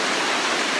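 Amicalola Falls, a 729-foot waterfall in a Georgia state park, gives a steady, dense roar of falling water heard close by with no breaks.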